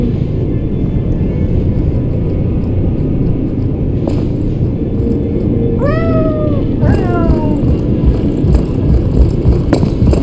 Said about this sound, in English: Oh, the cat is here again.